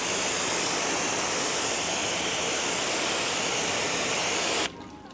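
Steady hose water spraying over an RV's painted exterior during a wash, a loud continuous broadband hiss close by that cuts off abruptly near the end, leaving quieter background.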